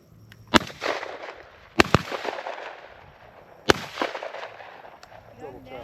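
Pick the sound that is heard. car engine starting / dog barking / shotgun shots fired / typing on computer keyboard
shotgun shots fired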